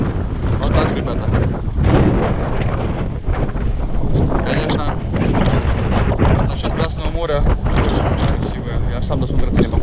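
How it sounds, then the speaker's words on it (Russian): A boat cruises across the sea at Hurghada, Egypt, with loud, constant wind buffeting the microphone and engine and water rumble underneath, while people talk over the noise. "Вот мы выплыли на этой красивой лодочке."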